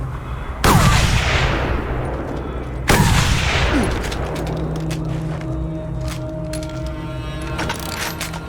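Gunfire in the Mad Max video game: two loud, sharp blasts about two seconds apart, each trailing into a long decaying roar, followed by scattered fainter crackles and a steady tone.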